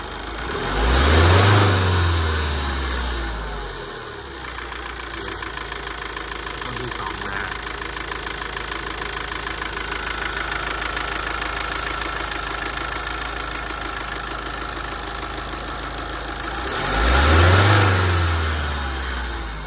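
A Tata 2.2 diesel engine runs steadily with a knocking idle while its injectors are bled, a rough continuous clatter with a deeper roar swelling at the start and end.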